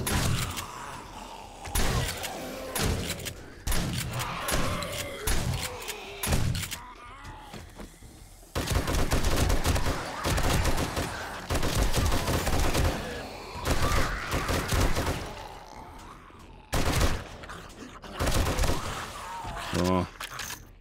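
Gunfire from a weapon in the zombie survival game 7 Days to Die, set inside a prison cell block, with repeated loud shots and bursts broken by short pauses, while someone talks over the action.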